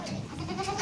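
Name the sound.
goat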